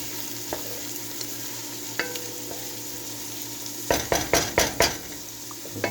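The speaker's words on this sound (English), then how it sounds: "Keep stirring that around." A spoon stirs pasta fagioli in a cooking pot, with a few light scrapes followed by a quick run of about five louder scraping strokes near the end, close by over a low kitchen hum.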